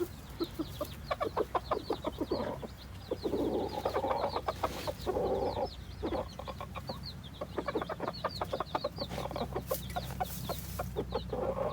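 A male duck near a nest box gives rapid, repeated soft quacks and clucking calls close by, a busy chattering series with brief pauses, no talking.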